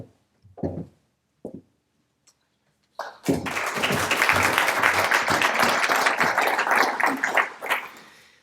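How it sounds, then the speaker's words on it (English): A few faint knocks and shuffles in near silence give way to a sudden burst of audience applause, sustained and fairly full for several seconds, before it thins out at the end. "Good to get some applause before I get started."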